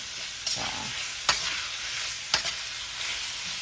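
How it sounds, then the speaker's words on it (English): Seasoned ground beef frying in a pan for Rotel spaghetti, a steady close sizzle punctuated by a few sharp clicks of a utensil, with no voices. "I'm gonna just let this fry up until the meat is done cooking"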